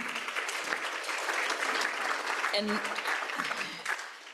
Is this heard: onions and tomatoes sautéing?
no